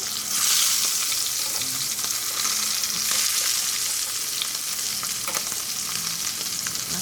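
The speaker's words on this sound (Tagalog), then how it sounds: "Kaya dapat mabilisan lang po yung pagprito." Pieces of pork asado frying in hot oil give a steady, loud sizzle with occasional crackles and spatters, continuous throughout with no voices.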